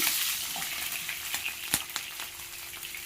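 Peanuts tossed with dried red chillies and green chillies in a hot pan for groundnut prasadam, giving a steady oil sizzle with scattered scraping stirs and one sharp clink near the middle.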